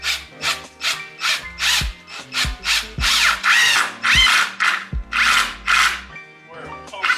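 A screw being driven during a garage renovation, repeated bursts of a power driver whirring in short pulses, loud and close, with clicks between the bursts and speech nearby.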